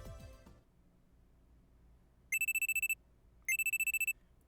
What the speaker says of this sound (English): I'm sleeping on the couch when a loud alarm rings in my ears.